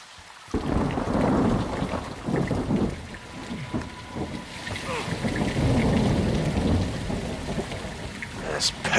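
Heavy rain pours steadily with rolling thunder in the Modern Warfare II video game, a dense, loud wash of rain with low rumbles swelling through, and a brief quiet moment before the downpour begins.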